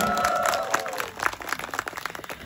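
Audience at a concert applauding, a dense burst of clapping that swells then breaks into scattered claps, with a fading musical tone at the start.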